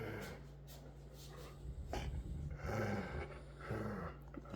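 Two huskies play-fighting indoors, with snorts, huffing breaths and small whimpers in a scuffling, uneven rhythm at close range, quiet overall with a sharper burst at the end.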